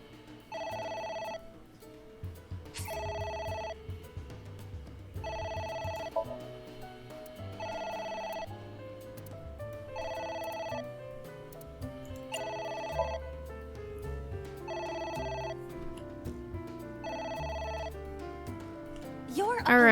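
A telephone rings in the video game AI: The Somnium Files, repeated electronic bell bursts in an even rhythm over game music, with a player talking at times.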